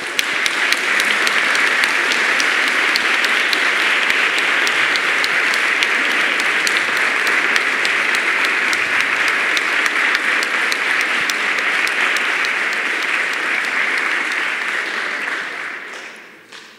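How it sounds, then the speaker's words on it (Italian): Sustained audience applause at a Nobel lecture by Svetlana Alexievich in Padua, a dense, steady clapping from a large room that holds evenly for about fifteen seconds before tapering off. "Diamo inizio all'incontro di oggi, la Nobel Lecture con Svetlana Alexievich, a cui dedichiamo un bel applauso"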